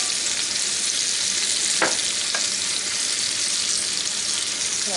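Apple slices sizzle steadily in melted butter in a pan for Pennsylvania Dutch fried apples, a loud broadband frying hiss with a couple of brief stirring scrapes partway through and no talking.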